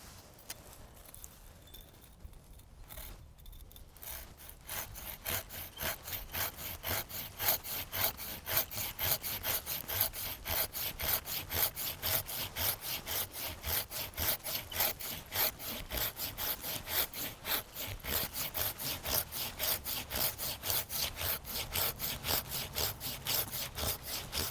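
A hand saw makes a pruning cut through a tree branch, a steady rhythmic rasp of back-and-forth strokes that starts after a brief pause and continues loud and close throughout.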